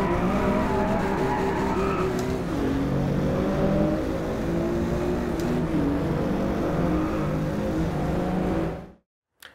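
A race car in DriveClub VR oversteering, with a loud continuous engine roar and tire skid squeal sustained for most of the run before cutting abruptly to silence near the end.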